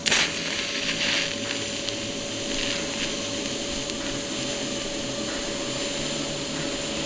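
A YesWelder Firstess MP200 multi-process welder holds a steady arc that gives a continuous loud hiss and crackle, with a sharp burst at the strike and an even buzz afterward.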